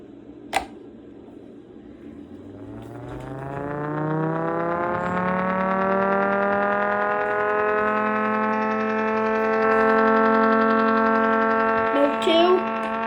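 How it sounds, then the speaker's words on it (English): A tornado warning siren sounds on its monthly test in mode 1, a steady rich tone rising slowly in pitch and swelling to a loud sustained wail, with a faint click near the start and a brief voice near the end. "Today is the monthly test of my tornado siren."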